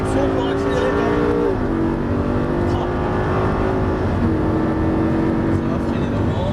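A Lamborghini Gallardo screams at full throttle on a racing track, a loud, steady engine note climbing in pitch through gear changes. An instructor talks over the roar.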